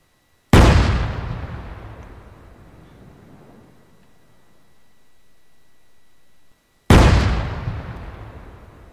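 Two heavy tank gun blasts in the Arma mod IFA3, one near the start and one about six seconds later, each a loud booming crack followed by a long rolling decay, with no voices.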